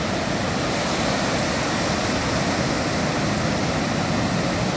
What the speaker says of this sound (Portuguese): olha só que gostoso você parar e ouvir o oceano